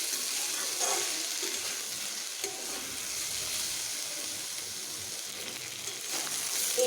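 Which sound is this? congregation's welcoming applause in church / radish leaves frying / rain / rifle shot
radish leaves frying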